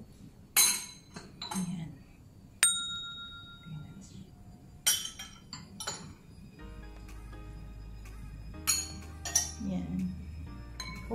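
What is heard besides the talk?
drinking glasses clinking as they are loaded into a dishwasher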